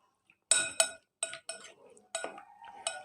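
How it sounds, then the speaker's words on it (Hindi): A spoon clinks and scrapes against a metal pan or bowl while chili sauce is mixed into food, a run of sharp taps and stirring scrapes in quick uneven succession, close and fairly quiet. "चिली सॉस भी, अच्छा सा मिक्स कर देते हैं।"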